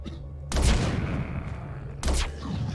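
Two sharp pistol gunshots in the video game Walking Zombie 2, about a second and a half apart, each a punchy blast followed by a ringing tail over quiet background.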